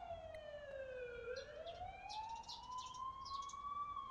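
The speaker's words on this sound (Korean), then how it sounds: "오늘도 앰뷸런스가 온 거야?" A wailing ambulance siren in The Coma: Cutting Class glides down then slowly up in one long sweep, heard at a distance and fairly faint, with some light higher noise scattered over it and no talk.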